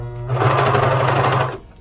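A sewing machine runs in one loud, steady burst for about a second and a quarter while trimming the fabric edge of a hoodie seam, then stops.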